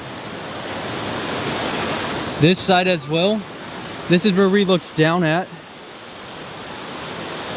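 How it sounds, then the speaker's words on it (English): Rough ocean waves crash against jagged rocks below sheer cliffs on the Oregon coast, a continuous broadband roar of surf and wind, with someone speaking briefly over it midway. "these mean waves crashing amongst all the rock"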